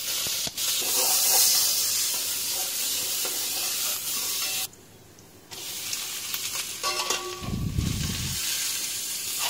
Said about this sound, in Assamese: কেঁচা জলকীয়া, পিঁয়াজ, নহৰু তেলত ভাজি ল'ম